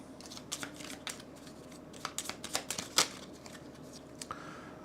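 Playing cards being riffled and shuffled by hand during a tabletop session of the board game Covenant: a series of quick, close papery riffles and snaps, fairly quiet, with no talking over them.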